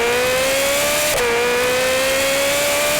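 Ferrari 458 Spider with a loud aftermarket exhaust and valved muffler, a steady droning engine tone that dips briefly in pitch and then climbs slowly.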